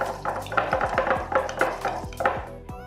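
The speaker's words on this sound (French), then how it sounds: "avant d'en rajouter trop, on va commencer à touiller" A spoon stirs chia pudding in a bowl: close, rhythmic scraping and clinking against the sides, about a dozen quick strokes in steady succession.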